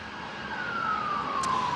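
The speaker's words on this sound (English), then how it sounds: "You can probably hear all the sirens, police cars just racing around us all the time" A police siren wails on a London street near Parliament during a terrorist attack response, one steady falling tone, moderately loud against a constant traffic rumble with no speech.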